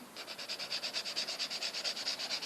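Soft pastel rubs on paper for a sunset-over-water drawing in fast, even back-and-forth strokes, a close, quiet scratchy rasp repeating about eight times per second with no talk.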